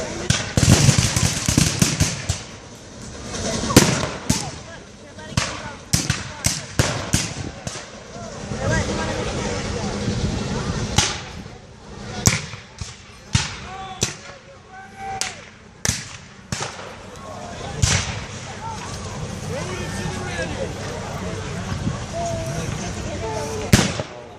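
Civil War battle reenactment with cannon and musket fire: dozens of sharp cracks and booms in irregular volleys, some clustered rapidly and others isolated, loud and fairly close, with voices talking in the background.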